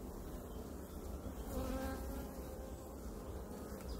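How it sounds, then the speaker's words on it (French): Honeybees swarm around a frame lifted from a hive, their dense buzzing a continuous close drone with no voices. "Il y a des abeilles et il y a du nectar."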